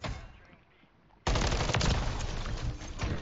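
Gunfire in a Call of Duty MW3 ranked match on the Departures map, a sudden loud burst of rapid automatic shots that starts partway through and keeps going after a quieter stretch, with no talk.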